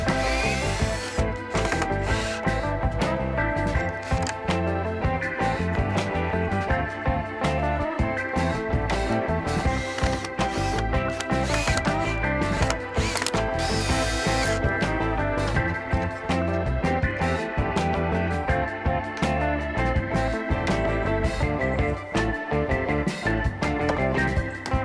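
A power drill unscrews and re-drives screws in wooden wall framing, giving a dense, continuous whirring motor whine close by with small surges, alone without talk.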